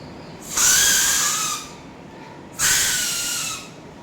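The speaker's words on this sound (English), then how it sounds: "paper whistle." Two shrill, reedy paper whistle blasts, each about a second long, with a short pause between them, close and fairly loud.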